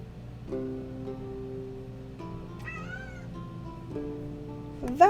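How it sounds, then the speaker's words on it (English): A pet cat named Onyx meows several times in a drawn-out, tonal way, close and clear, with a final sharper, louder call at the end over low background hum. "He meowed because he wants to be involved in making the potions."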